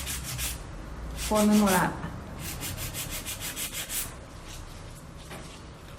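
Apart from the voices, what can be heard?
nail file filing acrylic nail sidewalls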